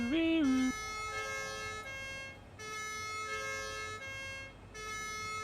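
A siren mounted on a cart in the video game Satisfactory, wailing loudly with a sweeping pitch at first, then holding a steady tone that cuts off and repeats in long, even blasts.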